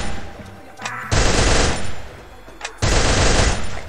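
Two loud bursts of automatic gunfire from a first-person shooter on PC, each lasting over a second, separated by a brief pause with faint clicks.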